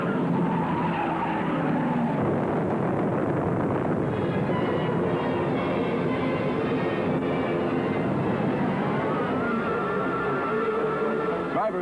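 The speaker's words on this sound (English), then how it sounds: "a 7-car pileup got started with one tragic collision to the back wall into turn 3 going into turn 4" Race cars skid and crash in a seven-car pileup at the 1964 Indianapolis 500, after a hit on the back wall between turns 3 and 4. A loud, continuous roar of engines and screeching fills the whole stretch.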